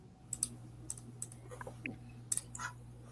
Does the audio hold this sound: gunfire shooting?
no